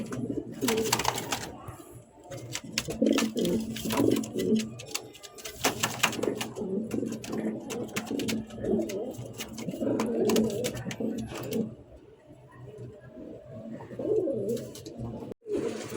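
A pigeon coos repeatedly in soft, low, throaty phrases, close by, with occasional rustling and clicks in the background and no talking.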